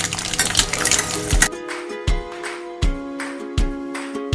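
Urad dal drops into a hot tempering of black mustard seeds, a brief burst of frying sizzle, then a spoon clinks and scrapes against the metal pan in several sharp, spaced strikes.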